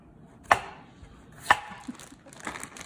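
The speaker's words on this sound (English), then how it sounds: "Thin sliced cucumbers for the Asian cucumber salad." A knife slicing cucumbers thinly for an Asian cucumber salad, crisp chops landing on a cutting board about once a second, close and clear with no talk.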